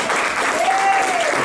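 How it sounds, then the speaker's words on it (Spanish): Steady, dense applause from a church congregation, continuous clapping throughout with a faint tonal whine underneath. "Dale un fuerte aplauso a Dios ahí"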